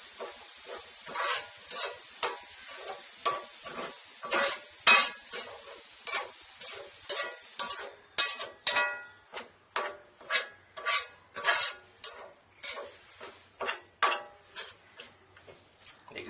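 A spoon stirs and scrapes halwa roasting in a pan, with repeated rhythmic scraping strokes over a soft sizzle and occasional metallic clinks, close and fairly loud, with no talking.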